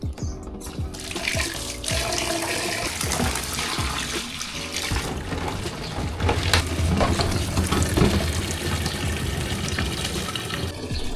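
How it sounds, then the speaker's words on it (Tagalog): Water runs and splashes steadily as containers are filled for watering plants, a continuous close, fairly loud flow with some knocks and handling noise throughout. "Lalagyan ko ng tubig."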